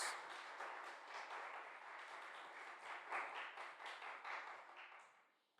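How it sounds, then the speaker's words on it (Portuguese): A congregation at a youth church retreat breaks into sustained applause, a dense wash of many hands clapping that swells and holds for several seconds before tapering off at the end. "Convido você a aclamar a palavra de Deus com uma salva de palmas."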